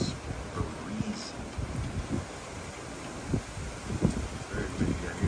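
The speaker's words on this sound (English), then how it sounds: "Just stepped outside and it is breezy." Breezy wind blows outdoors during Hurricane Milton, buffeting the microphone with steady rumbling gusts and rustling under a speaking voice.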